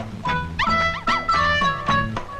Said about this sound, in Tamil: நாய் இங்க இருக்குதுயா